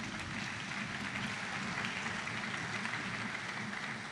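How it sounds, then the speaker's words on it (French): Ceremony audience applauding at the mascot presentation for the 9th Francophonie Games in Kinshasa, a dense, even patter of clapping from a crowd that stays steady and fairly distant throughout. "Merci d'applaudir, mesdames et messieurs."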